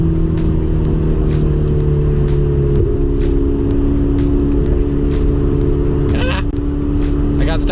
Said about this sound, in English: this thing has such a good exhaust note